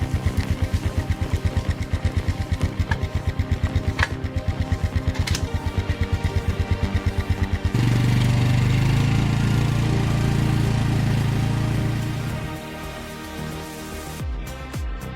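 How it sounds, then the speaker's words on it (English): A homemade engine-powered wood splitter for large birch logs runs on a farm, its engine chugging in rapid regular pulses, then settling into a steady loud drone under hydraulic load before easing off. "This homemade wood splitter is truly a remarkable creation for handling large logs like birch on the farm."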